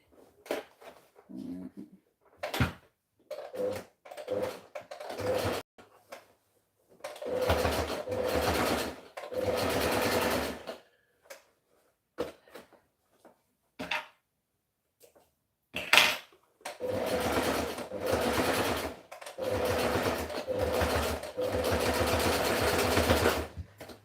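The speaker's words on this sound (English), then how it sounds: "So I'm just gonna go ahead and stitch first of all a line right there." A sewing machine stitches a line in several bursts, each a steady close whir lasting a few seconds, separated by quiet pauses and scattered clicks and handling knocks.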